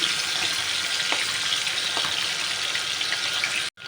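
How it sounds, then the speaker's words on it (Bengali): Fish sizzle steadily in hot oil in a pan, a dense, continuous frying hiss close by that cuts out briefly near the end. "মাছগুলো ভাজা হচ্ছে"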